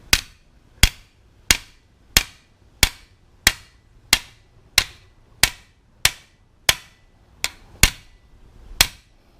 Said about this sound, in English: Now I'm going to show you how to do it with a hammer.